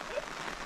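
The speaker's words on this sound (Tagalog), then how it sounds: "Inabot kami ng ulan." Steady soft hiss of rain falling outdoors in a rural province setting, faint and continuous with no distinct drops standing out.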